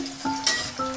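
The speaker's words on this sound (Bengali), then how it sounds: "মিনিট খানেক ভেজে নিয়েই তুলে নেব" Vegetables with capsicum sizzle in hot oil for fried rice, a steady close frying hiss with a sharper spike midway as the pieces are stirred, no voices over it.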